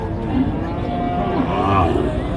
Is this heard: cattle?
yes